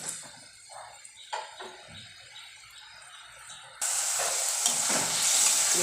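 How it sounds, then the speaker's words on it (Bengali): Spice paste for a banana flower curry is stirred in a pan with soft scraping, then breaks into a loud, steady sizzle of frying that continues to the end. "এবার ভালো করে মশলাটা ভাজা করে দিই।"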